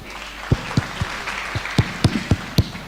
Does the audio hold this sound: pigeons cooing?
no